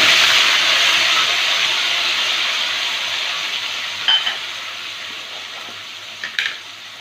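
Ground spice paste hits hot oil with whole cinnamon, cloves and cardamom in a pan for prawn malai curry, a strong hissing sizzle that slowly fades, with a couple of light utensil clinks later on.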